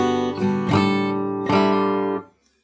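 Part of a song from Cyberpunk 2077 is played slowly on guitar: two or three plucked strums ring out one after another, close and sustained. The last chord fades into silence, and no one speaks.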